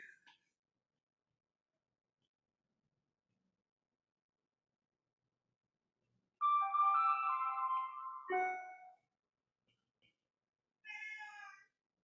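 A mobile phone ringing with a bright melodic ringtone of a few warbling tones. It sounds in two short bursts separated by silence, clear and fairly close.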